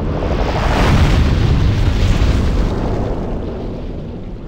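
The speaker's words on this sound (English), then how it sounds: "I'm gonna try to explode these things one at a time." Loud, dense explosions from a Demon's Souls battle rumble continuously for several seconds, a sustained booming roar with no talking.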